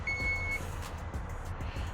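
A single steady electronic beep tone from a 2021 Chrysler Pacifica Hybrid power tailgate closing sounds briefly at the start, then fades into low rumbling background noise.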